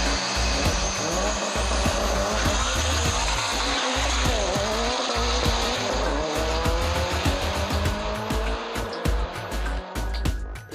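Cars roar past in a short street race, with high engine revs and squealing, skidding tires, loud and continuous throughout.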